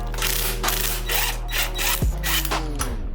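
An impact wrench works the wheel bearing bolts on a Porsche 944, firing in several short whirring, rattling bursts over a steady background hum, each burst winding down with a falling pitch near the end; no one speaks.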